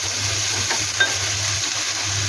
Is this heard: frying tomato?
yes